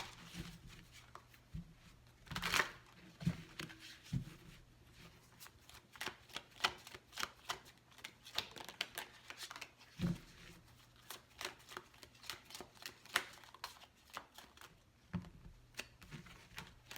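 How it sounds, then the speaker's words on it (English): Tarot cards shuffled steadily for a long stretch, a close, quiet stream of soft rapid flicks and papery taps with occasional louder snaps and no voice. "as I was shuffling the first time around"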